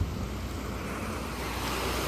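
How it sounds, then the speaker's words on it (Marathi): Sea waves at Alibag beach make a constant broadband roar of surf and wind, close and steady with no break. "डेंजर मध्ये लाटा चालू आहेत."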